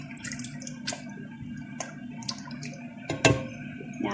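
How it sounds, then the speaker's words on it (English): Potato soup with chorizo being stirred in a pot, soft liquid sloshes and wet clinks in quiet intermittent bursts, with a louder splashing stir near the end and no voices. "Give it a stir."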